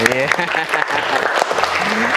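A room of people claps together, a brief round of applause, while voices talk over it throughout.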